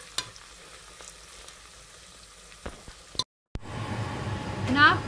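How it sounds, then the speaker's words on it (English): Onions frying for a chicken curry, a soft steady sizzle with occasional stirring clicks, a brief cut in the middle, then a louder, fuller hiss. "Now after some time of cooking the onions"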